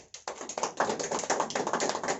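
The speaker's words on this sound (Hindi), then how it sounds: "जोरदार तालियां सनी के लिए" An audience gives a burst of applause, many hands clapping loudly and steadily in a dense, continuous patter for a couple of seconds with no talk over it.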